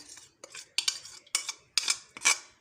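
Dishes and cutlery clatter while a plate is scraped clean in a home kitchen making mutton steam roast, with a series of sharp metallic clinks and scrapes in irregular bursts, close and fairly loud, no talking.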